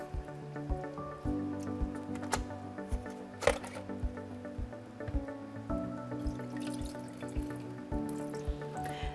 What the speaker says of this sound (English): Simply hold it under running water and rinse it out.